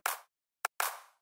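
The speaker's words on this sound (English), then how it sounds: "Then I add this clap" Three crisp electronic clap hits, short then short then longer, each with a sharp attack and quick decay, dry and isolated.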